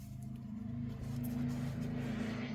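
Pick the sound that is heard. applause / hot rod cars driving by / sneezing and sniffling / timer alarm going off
hot rod cars driving by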